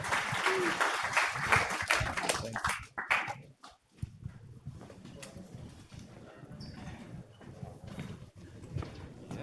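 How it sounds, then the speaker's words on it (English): Audience applause for a presenter at a GenAI demo night, a dense clatter of clapping through the first three seconds that drops off sharply, leaving scattered claps and low room murmur. "Round of applause for Tanmay."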